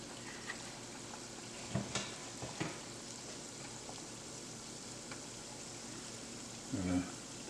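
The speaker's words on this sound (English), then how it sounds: "we're gonna fry our empanadas until they're golden brown" Beef empanadas frying in hot oil, a quiet steady bubbling sizzle with a few knocks and a louder splash-like burst near the end.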